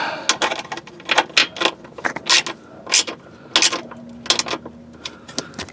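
A nut being tightened on the front splash guard of a 2008 Volvo S60 T5, heard as close, uneven bursts of sharp ratcheting clicks and metallic rattles with brief pauses between them.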